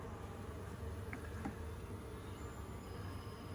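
Honeybees buzz softly and steadily during a hive inspection, a low continuous drone in the background with no talking.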